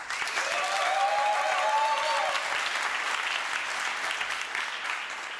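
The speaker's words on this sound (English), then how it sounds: "you applaud as loud as you can" A conference audience applauds loudly at an entrepreneurship event opening, a dense burst of clapping that swells and then gradually thins, with a brief voice over it.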